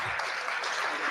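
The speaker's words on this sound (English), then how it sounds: "A round of applause" Audience applause at a Gen Z protest citizen assembly livestream in Kenya, a dense continuous wash of clapping filling the short moment at steady loudness.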